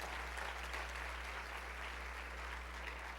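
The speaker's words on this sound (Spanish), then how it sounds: "Me gustaría que le diera un fuerte, fuerte aplauso a toda esa gente maravillosa." Audience at a religious congress applauding, a steady wall of many hands clapping in a large hall, continuous and fairly distant, with a low hum running underneath.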